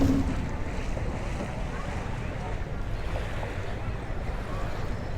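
Waves wash onto the beach at Palmanova, Mallorca, in a steady, continuous roar of surf mixed with wind buffeting the microphone, with no clear voices over it.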